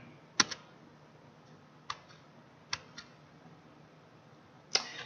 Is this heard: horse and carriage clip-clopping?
no